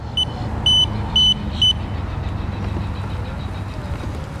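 A travel-friendly electric wheelchair drives across a grass patch with a low, steady motor drone, while four short, bright reverse beeps chirp near the start and then stop.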